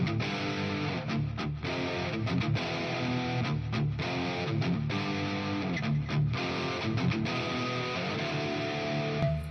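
A high-gain, heavily distorted electric guitar for metal, run through reverb and a 300 ms delay, plays dense chugging riffs with short rhythmic gaps, loud and alone.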